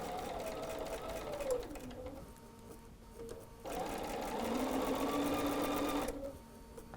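A domestic sewing machine stitches pieced quilt-block fabric in close, rapid whirring bursts, running, pausing briefly, then running again with a steady mechanical chatter.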